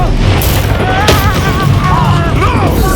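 Fiery Confringo spell blasts from Hogwarts Legacy on Xbox Series S, a loud dense rumbling burst with a sharp crack near the middle, layered under whistling magical tones and game voices.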